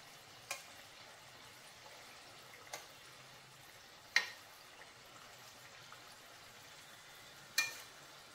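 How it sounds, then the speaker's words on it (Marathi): Coconut karanji, crisp pastries with a fresh coconut filling, fry in oil over a low flame with a faint, steady sizzle broken by a few sharp pops, close by and without speech. "ह्या बाजूनेही पूर्ण अशा गोल्डन ब्राऊन होईपर्यंत आपण त्यांना तळणार आहोत."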